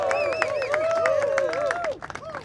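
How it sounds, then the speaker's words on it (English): A rally crowd breaks into sustained applause, with dense clapping and cheering and whistling laced through it, loud and close, before it thins out near the end. "Jano Lieber, the head of the MTA, let's give him a round of applause."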